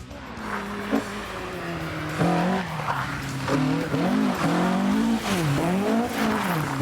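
A Ford Escort RS 1600 with a Cosworth BDA engine is driven hard, its engine note rising and falling through gear changes and throttle lifts, loud and close with tyres squealing at times.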